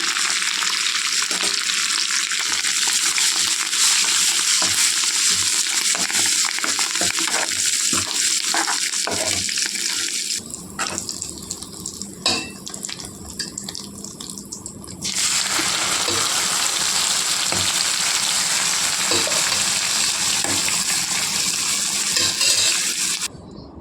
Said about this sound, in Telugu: తాలింపేసేసానండి